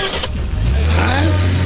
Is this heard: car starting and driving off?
yes